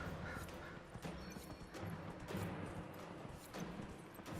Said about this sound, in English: watching my invisible elf ride a horse